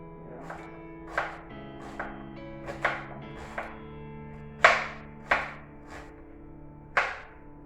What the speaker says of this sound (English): now I'm cutting my onion